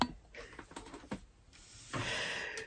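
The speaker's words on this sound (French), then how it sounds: "Mon super clavier de geek dont je vous parlais tout à l'heure déjà. J'adore. Quand je tape" Typing on a geek-style computer keyboard gives a quick patter of close key clicks, followed by a brief whirring, motor-like stretch, all fairly quiet with no voices.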